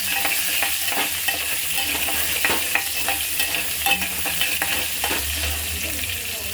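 Cumin and onion frying in oil in a pan for eggplant bharit, a constant bright sizzle with light stirring scrapes scattered throughout, close and alone without speech.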